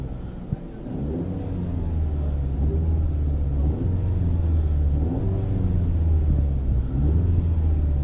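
A car engine fitted with a Baboomba blowoff valve adapter revs steadily, a loud, close, low rumbling drone with small rises and falls in pitch over about eight seconds and no talking.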